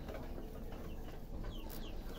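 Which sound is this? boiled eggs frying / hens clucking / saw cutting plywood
hens clucking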